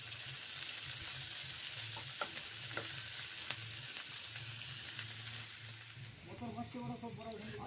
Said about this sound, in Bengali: সরষের তেল গরম করে। বিনসগুলো ভেজে নিচ্ছি।